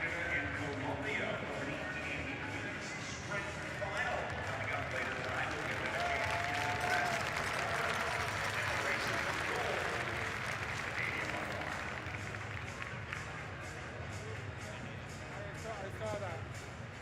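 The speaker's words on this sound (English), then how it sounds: "And Martha Bayona acknowledges the applause" Sustained crowd applause fills a track cycling velodrome during a 2023 UCI Track Cycling Nations Cup meet in Milton, Canada, a broad steady roar of clapping and cheering with a commentator's voice running over it.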